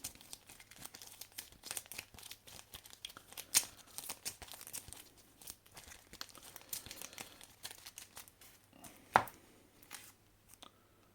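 Damage cards from the Monster Hunter Arena Quest board game are shuffled and handled on a table, giving soft rapid riffling clicks and papery rustles with a couple of sharper snaps, close and fairly quiet.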